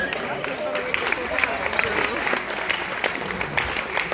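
An audience claps and applauds steadily at a hypnotist stage show after a tie race, the applause filling the whole stretch at moderate loudness.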